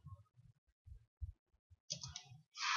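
Soft, close keystrokes on a computer keyboard come in a short irregular burst as a search term is entered, followed by brief brighter clicks.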